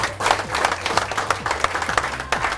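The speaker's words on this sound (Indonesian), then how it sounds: "Oke, tepuk tangan untuk Anda." Audience clapping at a K-Link partnership orientation seminar, a lively, fairly close run of rhythmic claps with a crowd murmur mixed in, steady for the full short stretch.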